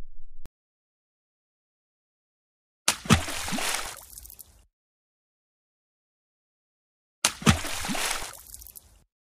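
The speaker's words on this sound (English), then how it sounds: "Now we can get in the water" Water sloshes and splashes in two separate bursts as people climb into water on a farm, each surge loud and close, then fading into dripping before silence returns.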